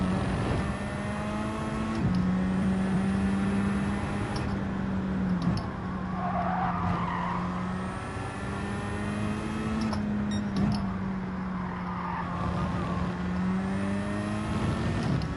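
Racing car engine in Gran Turismo 7 holds a steady high drone with sharp shift steps, near and loud throughout, the pitch dipping and climbing again as gears change.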